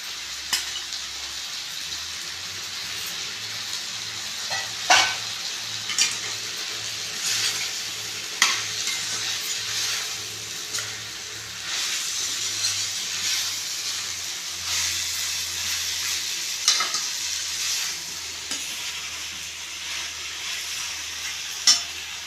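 Sesame seeds fry and sizzle in a pan for a bitter gourd kuzhambu, a continuous close hiss with occasional clinks of stirring and a low hum underneath.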